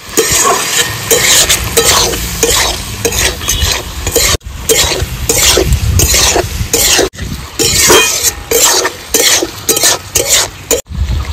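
Bottle gourd and prawns being sautéed in a pan, with loud continuous sizzling, a spatula scraping and clattering in quick repeated strokes, and a few brief pauses.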